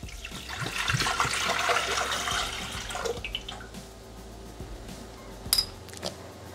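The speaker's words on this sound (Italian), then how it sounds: "Iniziamo la ricetta mettendo all'interno del boccale l'acqua" Water poured into a Thermomix jug for a broccoli burger recipe, a gurgling stream for about three seconds, then quieter drips and small clinks of the jug.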